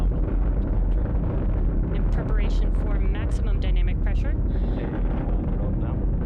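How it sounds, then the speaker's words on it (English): Falcon 9's nine Merlin engines roar during ascent on the Crew-2 launch to the International Space Station, a loud, steady broadband rumble filling the whole stretch, with a voice talking over it. "Falcon 9 will be throttling down the 9 Merlin engines shortly here in preparation for"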